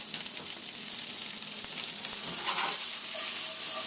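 Peas cook in a pan of Spam fried rice with a steady close hiss of sizzling oil throughout, plus a few faint crackles and no voices.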